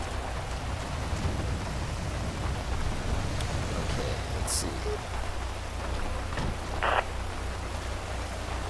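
Steady rain in a stormy highway scene in GTA V, a dense, even hiss throughout with a low rumble underneath, while a voice speaks briefly.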